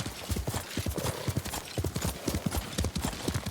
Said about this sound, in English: To your horses, men.